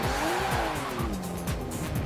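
Aston Martin DB4 Zagato in Forza Horizon 4, engine revving hard while tires squeal in a sustained skid, loud and close for a couple of seconds with a rising and falling tone.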